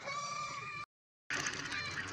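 Domestic ducks on a family farm call in loud, close honking quacks, one dense burst followed by a short silence and then another equally loud burst.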